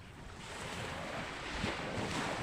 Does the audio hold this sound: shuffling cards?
no